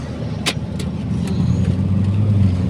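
A Hyundai Santa Fe engine idles and runs low and steady close by, with a few brief sharp clicks early on and no talk.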